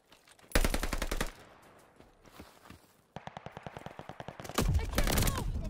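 Heavy automatic gunfire rattles through a video game battle in rapid bursts, with a quieter gap in the middle before the shooting resumes in loud, steady volleys.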